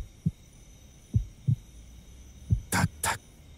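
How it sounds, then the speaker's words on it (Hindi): Movie sound effect of a heartbeat: soft, low paired thumps spaced irregularly, followed by two louder, broader pulses near the end, quiet and isolated with no talk. "तुम्हें सुनाई दे रही है क्या मेरे दिल की धड़कन?"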